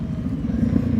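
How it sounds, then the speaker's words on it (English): A motorcycle rumbles at low speed during slow-speed riding practice, a close, steady throaty engine drone with slight pulsing as it downshifts, with no talking. "I heard the downshift."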